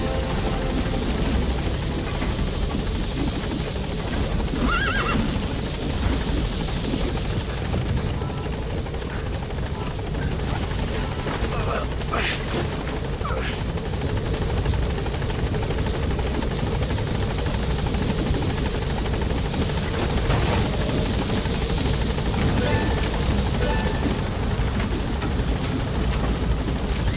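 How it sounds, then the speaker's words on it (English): Support helicopter in Metal Gear Solid V, a steady loud rotor roar and whine that holds throughout as the aircraft arrives and lifts off, with rain-like wash beneath. "Support helicopter has arrived"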